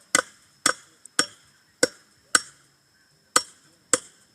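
Hammer blows driving nails into a homemade gate outdoors, eight sharp metallic strikes in an uneven rhythm, loud and close with brief ringing decay between hits and no talking.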